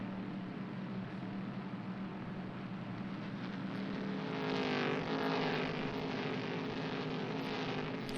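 Onboard a stock car at full throttle during a Stock Classics race at Curitiba, with a steady loud engine drone that swells and rises in pitch midway.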